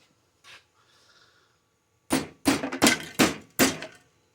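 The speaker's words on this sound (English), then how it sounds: "Hit it with the hammer." Several sharp hammer blows strike a welded steel piece clamped in a vise on a 1987 Ford F350 truck frame repair, five loud metallic hits in quick succession after a few faint handling sounds.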